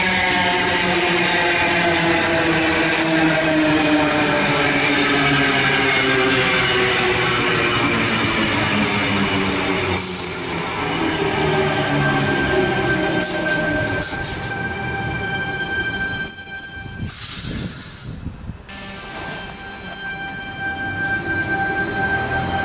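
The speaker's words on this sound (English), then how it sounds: "We have T17 and T65 arriving into platform number 1" Two Sydney suburban trains, sets T17 and T65, arriving at platform 1 of Heathcote station on a Bondi Junction service, a loud rumbling approach with squealing wheels and brakes, a sustained hum and a drawn-out stop.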